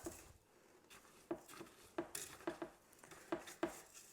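Chutney with sugar being stirred in a pot, a series of soft knocks and scrapes from a utensil against the pot in an uneven rhythm, quiet and close with no voices.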